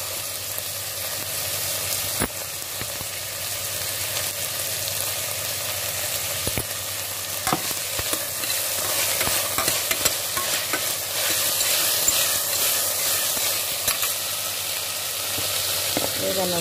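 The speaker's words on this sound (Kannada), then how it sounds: "ಈಗ ಆಲೂಗಡ್ಡೆ ಕೂಡ ಹಾಕ್ತಾ ಇದ್ದೀನಿ." Potatoes tossed into a hot pan and stirred while frying for a mixed vegetable palya curry, giving a steady sizzle with scraping stir strokes and occasional clicks throughout, fairly close and without talk.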